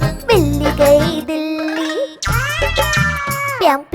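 A cartoon cat meows several times, loud and close, in long tonal wails over a bouncy musical backing in a Hindi children's rhyme.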